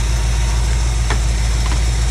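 Steady, close idle of a 1972 Buick Skylark engine after a timing adjustment, an even low rumble with a couple of faint ticks over about two seconds.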